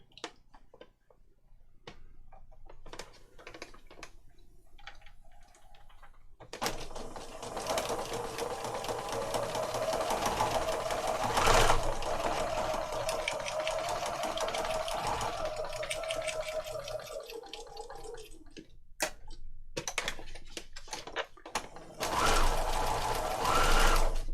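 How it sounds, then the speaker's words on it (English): A sewing machine, seemingly struggling, starts after a few scattered clicks and runs steadily with a dense mechanical whir, stopping briefly and then restarting near the end. "My sewing machine feels like it's not happy."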